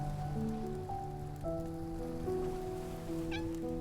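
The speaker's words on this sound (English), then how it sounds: "It's the kitten from before." A kitten in the rain in the video game Love and Deepspace, mewing faintly a few times under steady rainfall and a soft musical backdrop.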